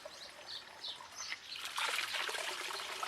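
Water trickling from a natural spring in a forest, a soft, close babble that swells in the second half while birds chirp faintly in the background.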